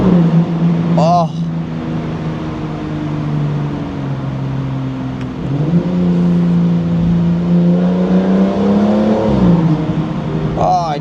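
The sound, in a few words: Aston Martin Vanquish engine sound while driving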